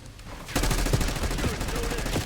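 Rapid automatic gunfire in the video game Black Ops 6 plays as a dense, continuous stream of loud shots that starts abruptly after a short lead-in and keeps going to the end.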